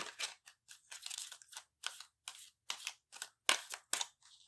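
A deck of cards being shuffled in a string of crisp, rapid bursts separated by short silences, close up with no voices.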